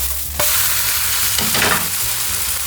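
A buckwheat-flour pancake with vegetables is flipped and fries in a hot pan, giving a loud, continuous sizzle with a couple of soft scraping thumps from the turn.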